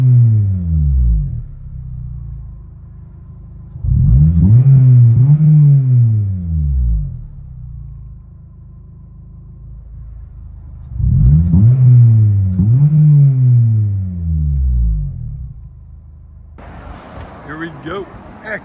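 A 2002 Acura Integra Type S with a six-speed manual, upgraded clutch and Skunk2 cat-back exhaust revs twice from idle, each loud rise and fall of the engine note standing out over a low idle rumble.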